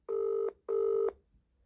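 Two long, steady electronic ring tones from an outgoing UK telephone call, each about 0.4 seconds, separated by a short pause; loud, clean and with no talking.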